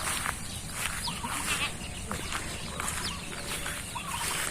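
Goats on a farm bleat in several short calls against steady outdoor background noise, with other livestock and birds faintly around, moderately close.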